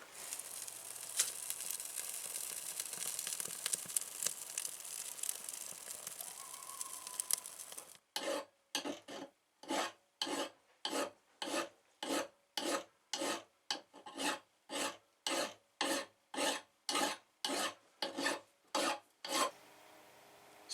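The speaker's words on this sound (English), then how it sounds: "So I have an axe file, coarse side and a fine side. I'm just going to shave down all those little burrs and dings." An axe file with coarse and fine sides shaves burrs and dings off an axe bit; after quieter rubbing, about eighteen evenly spaced rasping strokes follow in a steady, close rhythm.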